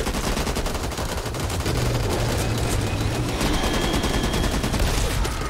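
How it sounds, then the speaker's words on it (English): Continuous rapid gunfire mowing down zombies in the video game Back 4 Blood: loud, dense, unbroken volleys throughout, with game noise layered beneath. "Shoot the goddamn zombies!"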